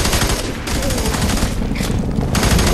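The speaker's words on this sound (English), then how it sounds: "I'm getting shot at." Dense, rapid gunfire in the first-person shooter F.E.A.R. 3, with overlapping bursts and volleys that continue loud and nearly unbroken throughout.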